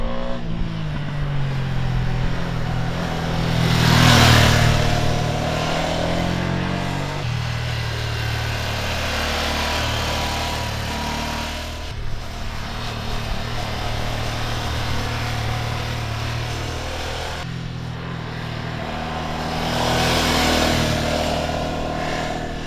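A 2026 Ducati Monster engine, Euro 5 Plus compliant, with a steady low rumble at idle and two swelling revs that rise and fall, fairly muted and continuous without talk.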